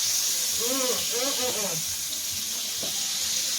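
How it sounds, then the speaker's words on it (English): Steak being basted in a hot pan gives off a constant loud hiss of sizzling fat, with a voice speaking briefly over it near the start. "Start basting, basting, basting."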